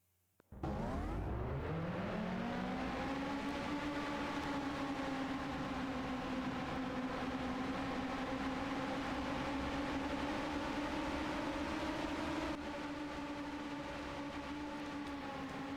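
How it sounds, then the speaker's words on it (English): NASCAR race car engines fire up at Richmond Raceway before the DirecTV 225: a sharp startup followed by a rising, then steady loud droning chorus of engines idling, with no talk over it. "As you hear the command to fire engines here at Richmond Raceway, the DirecTV 225"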